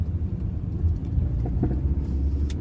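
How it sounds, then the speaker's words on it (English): A car on the move gives off a steady low rumble of engine and road noise from inside the cabin, with a few faint clicks and no talking. "I'm driving"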